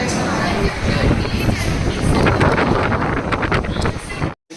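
Strong wind buffets the microphone in a constant rumbling roar at the Statue of Unity, Kevadiya, with indistinct voices mixed underneath, ending abruptly.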